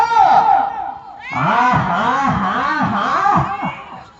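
A crowd at a bull race shouts and cheers loudly in rising, wavering yells, with one voice briefly calling out before the mass of voices swells together.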